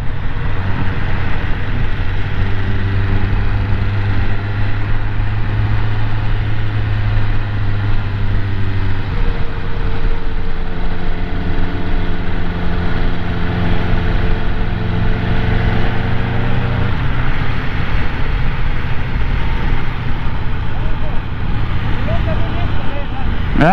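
A BMW S1000R or Kawasaki ZX7R sport motorcycle with original exhaust idles and runs continuously with a low, steady engine drone, while people talk over it and wind noise fills the background.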